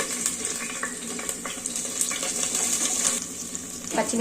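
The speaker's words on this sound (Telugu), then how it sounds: "ఇప్పుడు వెజిటేబుల్స్ అన్ని వేసి వేయించుకోవాలండి" Mixed vegetables frying in ghee in a home kitchen pan for masala khichdi, a steady broadband hiss and sizzle running throughout with light scraping and stirring clatter, close and continuous.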